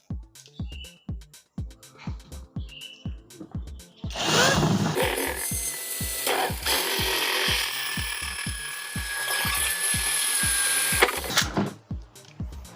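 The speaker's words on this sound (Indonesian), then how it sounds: "ini saya gunakan mata bor 4 mili dulu ya. Terus dilanjutkan ke mata bor Horso ya." Steady music beats play, then a power drill with a 22 mm hole saw bit grinds loudly through a motorcycle headlight housing for several seconds before stopping.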